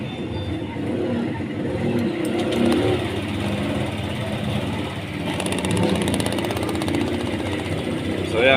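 A Honda Click 125/150i scooter, after a manual TPS/ECU reset for misfiring, runs with a rough, steady engine drone and rises in a couple of revs, with a person talking over it.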